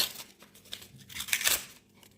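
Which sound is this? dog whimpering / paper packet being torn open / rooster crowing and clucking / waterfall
paper packet being torn open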